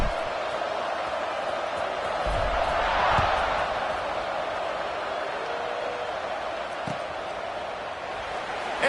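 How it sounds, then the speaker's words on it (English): A large American football stadium crowd buzzes after a score, a broad steady roar that swells slightly in the middle, with faint thumps underneath. "this crowd is buzzing after that last score"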